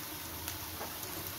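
Chopped onion frying in a pan, cooked toward brown: a soft, steady sizzle holds throughout at low volume, with faint stirring scrapes and a sharper clink near the end.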